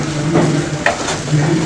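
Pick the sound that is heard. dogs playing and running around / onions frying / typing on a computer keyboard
onions frying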